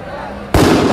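A sudden loud explosion in the video game RIOT: Civil Unrest, a sharp booming burst that cuts in halfway after quieter game ambience and rumbles on to the end.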